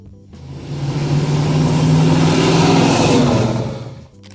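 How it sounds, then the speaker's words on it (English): A 1977 Pontiac Trans Am V8 engine revs up loud and close, swelling into a sustained roaring acceleration for about four seconds before cutting off, with no talking. "every time the Bandit hits the gas, the engine roars like a wild beast"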